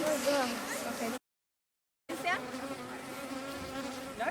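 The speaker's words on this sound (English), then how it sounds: "They're only bees." Dense buzzing of many bees surrounds the scene with voices speaking over it; the sound cuts out briefly before the droning swarm returns.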